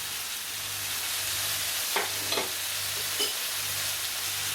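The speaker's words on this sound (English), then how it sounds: "Give it a nice mix." Spices are stirred into a paella base sizzling in a pan, giving a steady close frying hiss with a few soft scraping strokes of the spoon and no talk.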